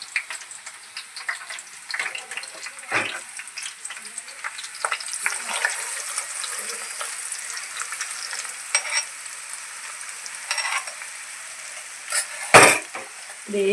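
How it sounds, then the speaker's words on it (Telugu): Hot oil poured over Andhra-style tomato chutney gives a steady crackling sizzle throughout, with scattered sharper pops and a loud burst near the end. "ఇప్పుడు పచ్చళ్ళు వేడివేడి నూనె వేసేద్దాం"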